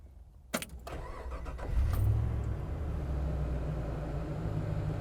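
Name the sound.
Land Rover Defender 110 with LS3 engine starting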